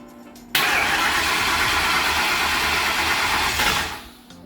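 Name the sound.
engine trying to start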